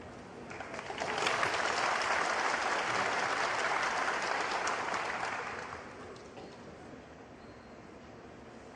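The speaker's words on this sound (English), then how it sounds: "you can hear the big cheer from his supporters" A snooker crowd cheers and applauds in a broad, steady burst of clapping that swells quickly, holds for several seconds, then fades to a quieter hall murmur; no commentary is heard over it.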